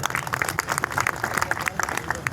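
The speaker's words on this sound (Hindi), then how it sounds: "ताली बजाओ।" An audience claps at a Kavi Sammelan poetry recital, producing a steady, moderately loud patter of many hands that continues evenly without a break.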